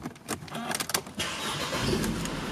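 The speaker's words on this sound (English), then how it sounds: "I'm just going to open up the car and start it up so we can have a bit of a listen." A car door clunk and a few clicks, then a Mercedes-Benz C180 Kompressor engine cranks and catches, settling into a steady low idle close by.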